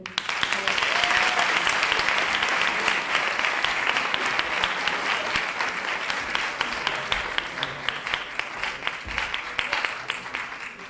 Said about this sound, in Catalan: volem demanar un fort aplaudiment a l'equip artístic